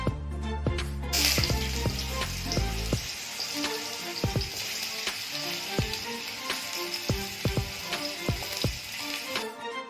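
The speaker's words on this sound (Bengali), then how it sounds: "সামান্য ফাটিয়ে দিচ্ছি লঙ্কাগুলোকে।" Dried chillies and fenugreek fry in oil, then raw mango goes in, producing a loud sudden burst of sizzling that settles into a steady crackle with repeated utensil knocks.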